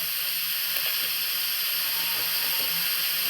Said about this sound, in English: Now we can drop in tomato sauce or ketchup.